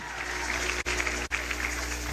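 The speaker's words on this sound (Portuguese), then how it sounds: "pedir uma salva de palmas para vocês" An audience at a Brasil do Futuro programme event applauds the delegates present, a continuous wash of clapping that holds steady with two brief dips.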